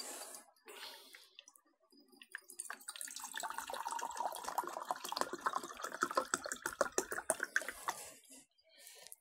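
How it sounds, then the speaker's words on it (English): Distilled water poured into a beaker for a barium chloride precipitation experiment, a steady trickling splash that builds and continues for several seconds, close and clear with no talking. "let us take the distilled water out into the beaker"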